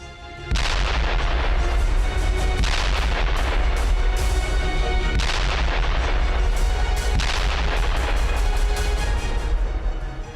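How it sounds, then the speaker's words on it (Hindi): IDF aerial bombardment against Hezbollah positions. Heavy, loud booming blasts land in several rapid bursts over a continuous rumbling roar, with no speech. "आसमान से आईडीएफ की बमबारी।"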